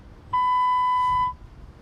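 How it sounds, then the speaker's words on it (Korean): A single clean electronic phone voicemail beep sounds for about a second, a steady pure tone against faint background noise. "전원이 꺼져 있어 삐 소리 후 소리샘으로 연결되오며 통화료가 부과됩니다"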